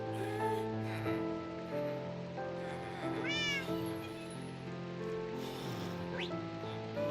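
A cat meows in a video game, one clear rising-and-falling meow over steady game music and background ambience, with a brief second chirp near the end.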